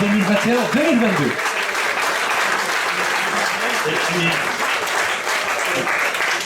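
An audience at a handball club's season presentation applauds the sports staff, steady dense clapping throughout with a voice speaking over the start.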